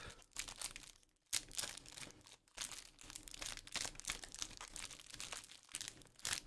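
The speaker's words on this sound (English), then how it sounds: "So I'm shuffling this up." Magic: The Gathering booster packs shuffled together by hand, giving a steady, close crinkling and rustling of foil wrappers with brief pauses, faint overall and free of speech.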